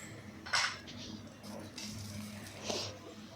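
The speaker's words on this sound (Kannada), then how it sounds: "ಬಾಣಲಿ ಇಡಬೇಕು." A kadai (frying pan) is set down on a stove in a home kitchen, giving a couple of short metallic clanks and scrapes up close, with faint rustling between them.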